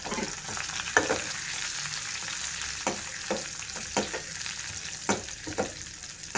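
Onions, garlic, dried red chillies and curry leaves frying in hot oil, a steady loud sizzle with occasional clinks and scrapes from stirring, no voices.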